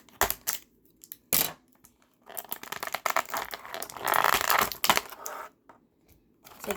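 Cutting a McFarlane Toys One Punch Man Saitama figure free from its plastic packaging, with close crisp snips, crackling plastic and crinkling bursts that come in irregular clusters separated by quiet pauses.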